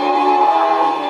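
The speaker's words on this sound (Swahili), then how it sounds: "Tunasikia vigelegele." Sustained high ululation from a dense crowd at an outdoor political rally, loud and steady with overlapping trilling voices and no pauses.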